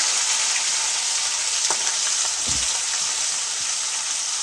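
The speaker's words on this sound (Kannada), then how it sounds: "ಈಗ ಸ್ವಲ್ಪ ಶುಂಠಿ ಬೆಳ್ಳುಳ್ಳಿ ಪೇಸ್ಟ್ ಹಾಕ್ತಾಯಿದ್ದೀನಿ ಇದು ಸ್ವಲ್ಪ ಹಸಿ ವಾಸನೆ ಹೋಗೋವರೆಗೂ ಫ್ರೈ ಮಾಡ್ಕೋಬೇಕು" Ginger garlic paste fries in a pan with a continuous close sizzle and crackle, a few soft stirring knocks partway through, no talking.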